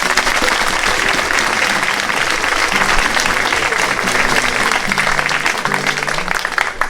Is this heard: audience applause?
yes